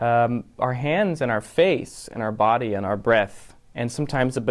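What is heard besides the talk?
No everyday noise stands out behind the speech.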